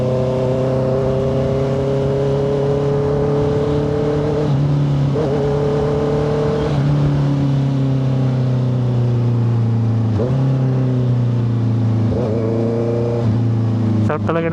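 A 2025 Honda CBR650R inline-four motorcycle engine hums loud and close while riding in traffic, its pitch dipping and climbing through several gear shifts and throttle blips, with a sharp rev near the end.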